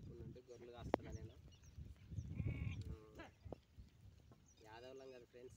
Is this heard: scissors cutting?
no